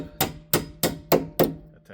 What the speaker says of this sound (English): all you have to do is hammer it over